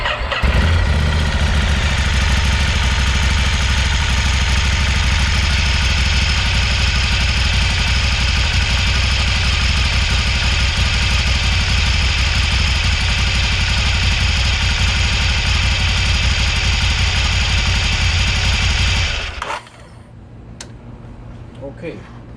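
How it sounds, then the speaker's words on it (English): A motorcycle engine idles loud and close during an oil change, a steady rumbling drone that holds for about nineteen seconds before cutting off abruptly into near silence. "we're gonna start the bike for a second."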